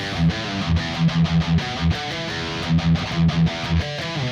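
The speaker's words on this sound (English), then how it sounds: "So if you just chug that open string and then play the notes I gave you," Distorted electric guitar playing a metal riff, palm-muted chugs on the open string broken up by fretted notes in a choppy, driving rhythm, loud and close with no voices.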